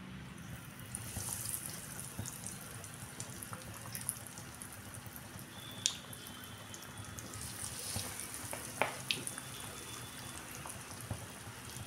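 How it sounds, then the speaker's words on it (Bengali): Dough pieces fry in hot oil with a continuous bubbling sizzle, steady and close, broken by a few sharper pops and crackles. "এবার আমি তেলে ফ্রাই করব।"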